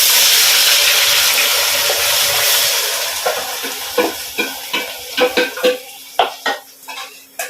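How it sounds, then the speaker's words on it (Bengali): Spatula scraping masala paste around a metal pan over a soft sizzle: a steady hiss at first, then a quick series of sharp clinks and scrapes against the pan, close and loud with no talk. "একটু নাড়াচ্ছি, এটা একটু কষুক"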